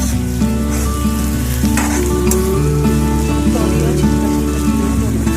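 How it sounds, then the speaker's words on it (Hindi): Loud, steady sizzling of spices in hot oil for a tadka tempering, a dense crackling hiss that continues throughout with occasional pops and stirring. "अब यहाँ मैंने तड़का लगा दिया है"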